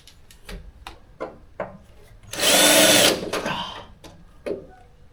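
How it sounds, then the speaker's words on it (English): A power drill whines through a 1964 Toyota Crown's car body in one sustained burst of about a second, close and loud, amid scattered clicks and knocks. "So if I drill a hole there,"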